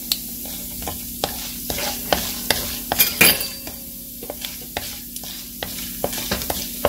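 Asafoetida and spices for a potato masala fry in hot oil under a steady sizzle, while a spoon scrapes and taps the pan in frequent sharp strokes, louder near the middle.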